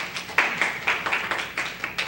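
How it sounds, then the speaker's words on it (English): Scattered applause breaks out at a city council meeting, several rhythmic bursts of clapping from a small group in a hall, with voices talking over it. "Oh, we got applause, too."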